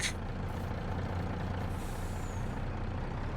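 Heavy truck in a trucking simulator game pulling away under a full load, with a steady low engine rumble and a hiss of air brakes at the very start.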